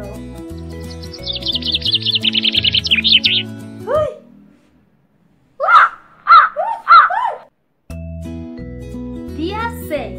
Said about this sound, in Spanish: Y a las aves del cielo, que nos alegran con su dulce canto.